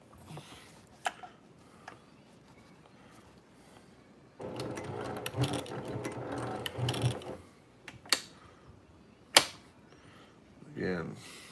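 A Brother PQ1500SL sewing machine stitching a bag in a steady mechanical run of a few seconds, with quieter clicks and handling noises before and after.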